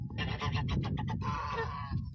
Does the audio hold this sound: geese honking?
yes